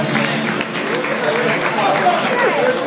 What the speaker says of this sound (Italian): Ragazzi, un grande applauso!